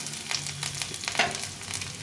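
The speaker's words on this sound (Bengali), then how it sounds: "পেঁয়াজটা একটু ভেজে নেবো ভালো করে।" A large onion fries in a pan, a close, continuous sizzle with short bursts of crackle and light scraping of a spatula, with nobody speaking.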